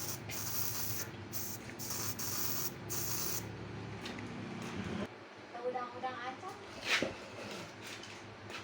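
Carburetor cleaner sprays from an aerosol can onto a Yamaha Mio scooter carburetor in a steady hiss for about three seconds, followed by quieter handling noises and light clatter, with a voice talking nearby.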